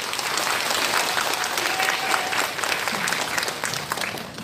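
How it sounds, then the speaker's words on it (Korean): Audience applause for a People Power Party district chairman at a senior job-training session in Incheon's Dong-gu community center: dense, sustained clapping from a roomful of people filling the whole stretch at steady loudness. "크게 박수 부탁드리겠습니다."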